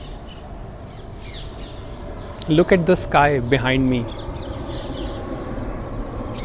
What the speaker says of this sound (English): Hear the sound of these birds, these chirping sounds.